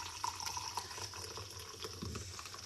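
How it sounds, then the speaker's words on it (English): Liquid is poured out of a lobster bisque base in a steady, continuous splashing stream heard close up, with no talking. "we're going to pour that liquid out of our bisque base"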